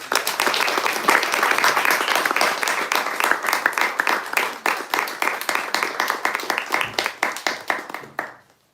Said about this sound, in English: let's give these two a really big round of applause.